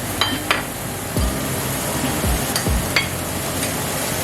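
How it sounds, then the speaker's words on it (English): A fork whisking egg yolk in a bowl, with light clicks of the tines against the side and soft low knocks at irregular intervals, quiet and close with no talking. "break the yolk and mix it up with a fork"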